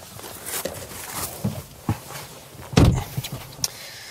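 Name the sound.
frameless door of BMW 2 Series Gran Coupe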